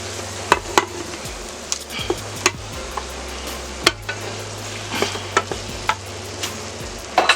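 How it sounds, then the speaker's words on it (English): Garlic sautéing in a soup pot, stirred with a spoon: a low hiss under repeated knocks and scrapes of utensil against metal at irregular intervals, close and fairly loud, with no talk. "We're going to stir that up in there real good. We're not going to let that cook long in there."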